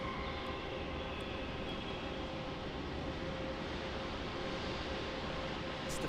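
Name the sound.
Qantas Embraer E190 landing on runway 16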